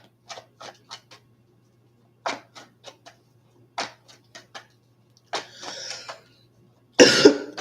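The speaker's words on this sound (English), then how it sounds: "Every time I go live, I'm just like hacking up coughs" A person coughs repeatedly during a live tarot reading, short hacking bursts in clusters of three or four, with a harsher, louder fit at the end, close and without talk.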